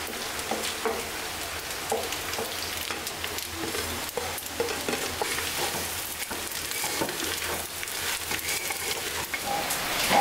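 Rice frying on low heat in a pan for rainy-day khichuri: a steady soft sizzle with faint stirring scrapes, close and continuous with no talk.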